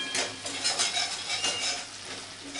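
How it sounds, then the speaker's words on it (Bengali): Spice paste stirred and frying in a pan for an aloo-broccoli curry, with a spoon scraping against the pan amid a steady sizzle that rises and falls with each stir, close and moderately loud, no talking. "এবার মশলাটাকে ভালো করে কষিয়ে নেব।"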